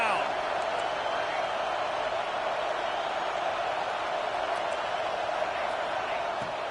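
Stadium crowd at Saban Field during an Oregon versus Alabama college football video game on third down, a steady, dense roar filling the whole stretch at constant loudness.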